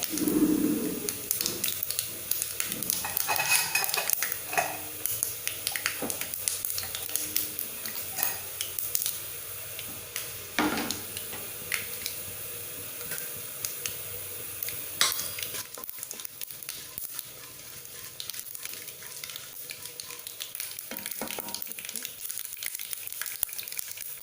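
Mustard seeds, urad dal and chana dal frying in a pan for a tempering for bread upma, a steady crackling sizzle with occasional stirring scrapes and clinks, close and fairly loud throughout.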